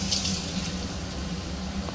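Water being poured into fried rava in a pan while making pineapple kesari, a steady close splashing pour with no talking.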